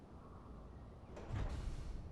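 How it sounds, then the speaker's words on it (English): Large hangar doors in the Space Engineers video game start moving together, a low mechanical rumble and sliding whoosh rising after a quiet stretch and holding steady to the end. "Then, when we press this button, now all 3 doors move in unison."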